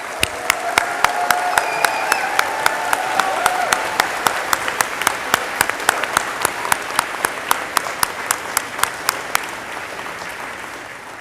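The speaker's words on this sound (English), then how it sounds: "Let's give our graduates another round of applause," An audience at an eighth-grade graduation gives the graduates a sustained round of applause, a steady wash of clapping with one loud, rhythmic clapper standing out near the front, as voices and cheers blend in.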